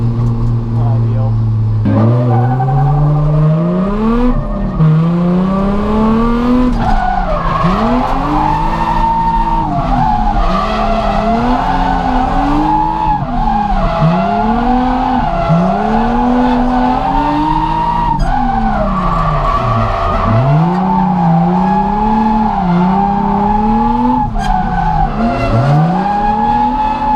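Drift cars in the Driftcup 2018 final round at Driftland make long, wavering tire squeals under loud, revving engines, rising and falling repeatedly with close, constant intensity.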